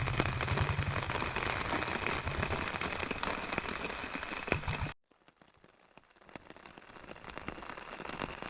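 Steady, dense rain pattering on a surface on a tropical island, loud at first, then abruptly quieter and thinner as it keeps falling.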